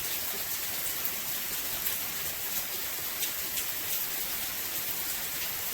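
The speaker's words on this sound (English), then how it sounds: "They're expecting lots and lots of rain" Heavy rain from Hurricane Delta falling in a Mayan village in Buenavista, Mexico, a steady dense hiss of downpour with scattered louder drops, constant throughout with no voices.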